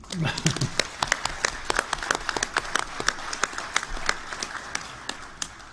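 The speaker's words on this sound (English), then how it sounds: "So I think he deserves a round of applause." Applause from an audience at a Masonic lecture, a modest group clapping with distinct individual claps spread out, fairly close, with faint voices underneath at the start.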